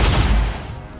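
A gunshot from XCOM 2 booms loud and low at the start and fades over about half a second, with no other sound after it.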